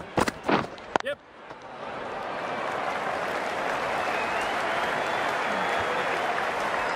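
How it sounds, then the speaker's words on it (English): Crowd at a cricket test match applauding lightly, a broad steady patter of clapping that swells and holds after a few sharp knocks and cheers at the start. "light applause from the crowd."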